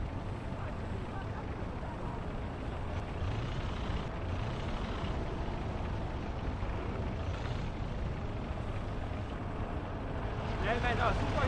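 A tank engine rumbles in the Eastern Front setting of Gates of Hell, a heavy, continuous low drone that stays steady and loud throughout, with battlefield noise layered over it.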